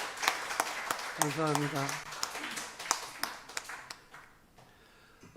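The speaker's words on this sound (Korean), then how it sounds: "뜨겁게 한번 박수 한번 해주시기 바랍니다" Applause from a church congregation during a Sunday service, welcoming missionaries; scattered claps in a moderate room, mixed with someone speaking over a microphone, tapering off toward the end.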